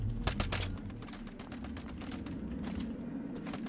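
Flashbangs exploding in the game Once Human, a rapid run of sharp cracking bursts crowded into the opening second, then scattered pops over a continuous noisy rumble.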